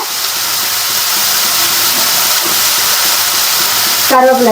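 Curry leaves hit a hot pan of onions for chicken kuzhambu, giving a loud, continuous close hiss that holds steady throughout, ending with a brief tonal ringing.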